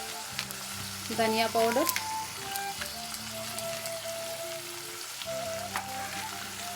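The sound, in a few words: spices frying in a pan for paneer butter masala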